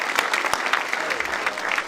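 Graduation audience applauding, a brisk crowd of clapping hands with sharp individual claps popping out of the steady patter, brief and moderately loud.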